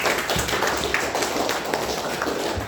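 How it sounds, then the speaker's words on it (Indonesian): A class of students claps in a classroom, a dense, steady patter of many hands heard fairly close and continuous, with no talk over it. "Berikan tepuk tangan untuk kita semua."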